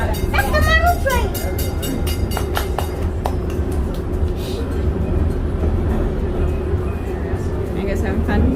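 A model train runs at a Thomas and Friends day out, a steady low rumble of wheels and motor under excited talk from children and adults nearby.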